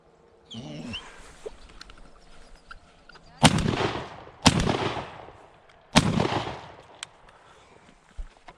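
Three loud shotgun blasts boom out while duck hunting for wood ducks, spaced about a second apart and then a bit wider, each fading into a short echo after quiet outdoor sound.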